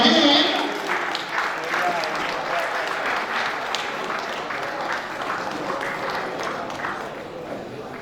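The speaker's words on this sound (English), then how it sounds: "Please let's clap for him." An audience at a national mental health act sensitization workshop applauds steadily for several seconds, a dense patter of claps that gradually thins out.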